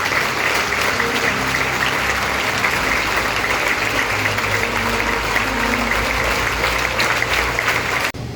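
A worship congregation in Bocaue, Bulacan, offers God a long, dense round of applause. The steady, loud clapping fills the room continuously over a low hum and cuts off abruptly near the end.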